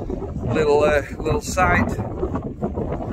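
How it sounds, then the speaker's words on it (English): Gusty wind buffets the microphone with a steady low roar on West Nab in the Peak District while a person speaks over it. "even though it's still quite windy"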